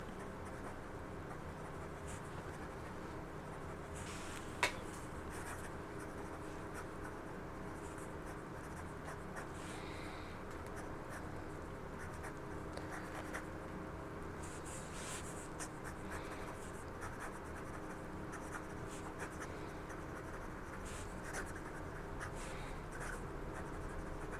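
Soft, continuous scratching of a Sailor 1911 fountain pen's 21 karat gold medium nib gliding across paper, faint and close, with occasional small taps over a quiet room hiss.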